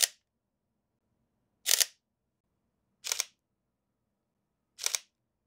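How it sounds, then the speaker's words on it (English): Mechanical shutter of a Sony A7 mirrorless camera (A7 III or A7 IV) fires four times, each a single crisp close snap, spaced roughly a second and a half apart in otherwise quiet surroundings. "The shutter sound is quieter on the Mark IV model, which makes the camera a bit more discreet when used in the mechanical mode."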